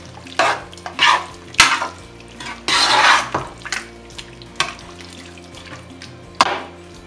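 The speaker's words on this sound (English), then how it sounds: "Put the pepper right in there at this point. Give it a good stir." A spoon stirs pepper into Nigerian egusi soup in a pot, producing a run of separate scraping, sloshing strokes with brief knocks against the pan, close and fairly loud.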